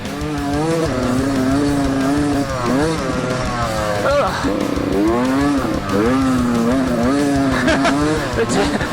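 Beta dirt motorcycle engine revving and bogging as it churns through a deep, narrow sand wash at a demo day, the loud rising and falling engine note continuous throughout, with rhythmic pulses under the strain.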